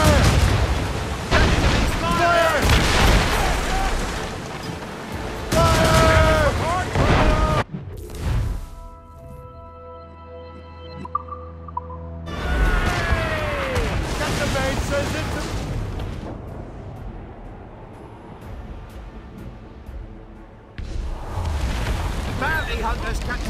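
Ship cannon fire in Assassin's Creed Rogue, loud booming broadsides over crashing ocean waves and wind, mixed with shouted voices and a quieter stretch of music in the middle.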